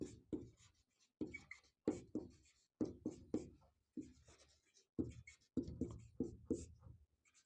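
Chalk or pen writing out a maths question about a triangle's sides, in short rhythmic scratching strokes with brief pauses between words, close and clear.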